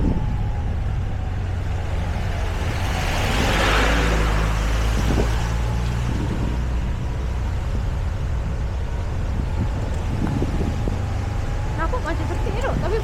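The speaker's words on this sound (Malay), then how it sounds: "Tu ada lori." Lorry on a narrow mountain road near Sapa, a low rumbling engine drone heard near and steady throughout, with wind noise and people talking over it.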